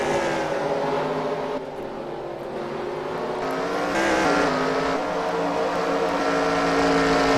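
Dirt-track race cars at Eldora Speedway roar out of turn 4, a loud, sustained pack of engines with rising pitch as they accelerate, building to a full, dense blare near the end.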